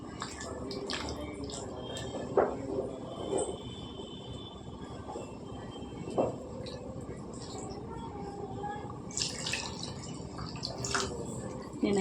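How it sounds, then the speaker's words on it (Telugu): Water is poured into a bowl of mango pulusu and squished in by hand, giving soft sloshing and dripping with occasional splashy accents, fairly faint and continuous. "ఇప్పుడు నీళ్ళు వేసుకొని కలుపుకుందాం."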